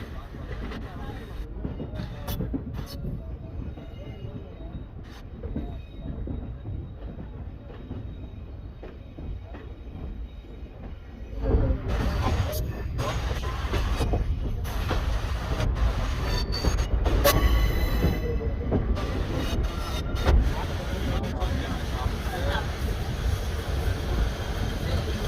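Garudadri Express train running on rails through the Basin Bridge Junction yard, a steady rumble and rattle of wheels that grows louder about halfway through, with squeals and clatter, while a voice talks over it at times.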